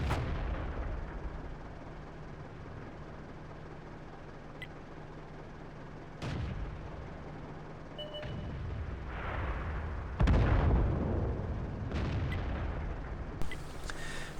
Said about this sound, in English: Artillery takes him out.